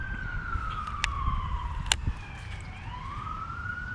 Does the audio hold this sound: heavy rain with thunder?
no